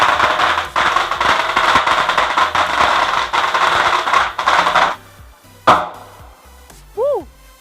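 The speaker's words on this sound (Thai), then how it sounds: "วันนี้เรายังมีการจุดประทัดถวาย หลวงปู่ดำอีกนะครับ" Firecrackers lit as an offering at a Thai temple crackle in a dense, rapid string of loud pops for several seconds, followed by a few scattered louder bangs.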